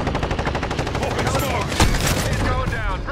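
Rapid automatic gunfire in an online military shooter, bursts of fast repeated shots with a heavier blast near the middle, loud and continuous, mixed with game voice callouts and a player talking over it.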